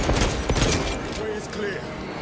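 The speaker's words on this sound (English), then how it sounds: "Oh, that heavy bolt pistol." A heavy bolt pistol fires in Space Marine 2, a loud burst of booming shots packed close together in the game's battle mix, with a player talking over it.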